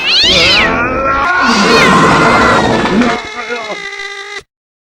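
A cat meows loudly and long from close by, a drawn-out wailing yowl with rising and falling pitch that breaks off abruptly at the end.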